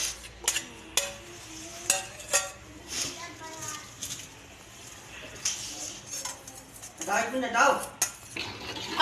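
A spoon scrapes and clinks against a pot as yogurt is stirred into paya. The contact sounds are irregular and moderately loud, with some soft sizzling between them and talk over the top.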